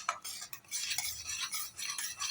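Sooji halwa stirred continuously with a spoon in a heavy-bottomed pan as ghee and raisins cook in, giving a close, steady scraping and shuffling with metal clinks, no voices.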